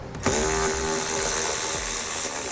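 A ratchet fitted with an 8mm socket works screws loose on a towed vehicle's light assembly, giving a close, steady run of rapid clicking and whirring that starts abruptly and continues throughout.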